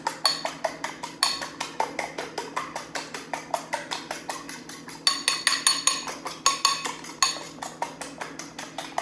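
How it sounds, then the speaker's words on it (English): Eggs whisked briskly in a bowl for a fluffy scramble, producing a steady, rapid run of light clinking taps against the bowl, about three per second, close and continuous with no talking. "I am lifting the eggs while I'm whisking to incorporate air"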